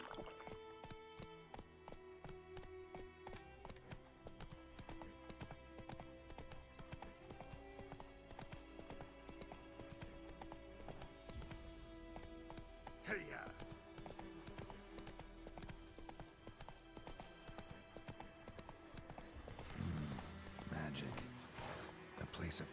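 Roach the horse's hooves clip-clop at a gallop in a video game, a rapid steady rhythm under game music and a speaking voice, with a brief whinny-like burst near the end.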